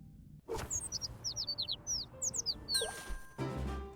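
A rapid series of high, bright bird chirps and tweets from the Little Kitty Big City video game rings out over soft background game sound, followed by a short chime-like jingle.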